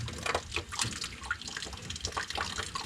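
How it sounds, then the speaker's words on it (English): Water trickles and drips from a boiler pump fitting during a new pump installation, with irregular close splashes and patters over a continuous low wet background. "We're going to just let it drip out while we tighten this down."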